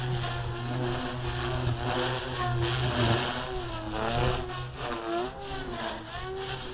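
An OMPHOBBY M4 RC helicopter flies with its standard tail rotor, giving a steady mid-level whine that wavers and bends in pitch as it maneuvers. No voices are heard.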